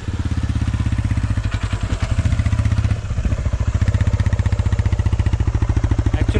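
A TVS Raider motorcycle being ridden, its engine a steady close drone that runs without a break, with faint rattles over the top.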